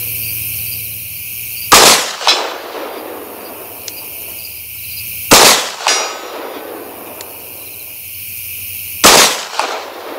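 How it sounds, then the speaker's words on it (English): Three sharp gunshots from a Springfield Echelon 9mm pistol fired with iron sights at a 100-yard daylight target, evenly spaced a few seconds apart, each loud crack trailing into a brief outdoor echo over quiet background. "shooting 100 yards with iron sights in daylight can be challenging"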